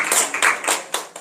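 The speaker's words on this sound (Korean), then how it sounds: "건강하기를 원하시면 박수를 많이 쳐야 돼요" A church congregation claps hands during a sermon in a short, loose burst of several sharp, uneven claps that rise and fall in waves.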